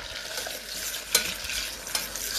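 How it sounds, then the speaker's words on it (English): Butter sizzles and pops steadily in a hot pan, a continuous close crackling hiss with a couple of sharper pops standing out. "Butter's sizzling and popping away nicely."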